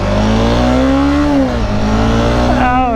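A Honda CBR 300R motorcycle engine revs up in a rising, buzzing whine, briefly dips as it shifts, then climbs again, loud and close with steady wind noise.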